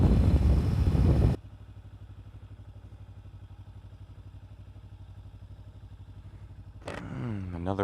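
A motorcycle engine idles with an even, low throb on a hot day at a McDonald's drive-thru, after a short burst of loud noise at the start, and it swells again near the end.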